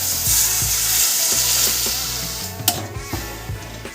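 Spice paste fries with cauliflower leaves and prawns in a pan, starting as a loud broadband sizzle that fades into a few sharp clatters and scrapes of a stirring utensil. No one speaks.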